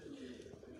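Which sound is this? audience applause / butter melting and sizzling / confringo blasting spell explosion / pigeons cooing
pigeons cooing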